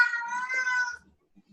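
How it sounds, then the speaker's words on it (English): A cat gives a single clear meow close by, a drawn-out tonal call lasting about a second and followed by near silence. "The cat thinks so too."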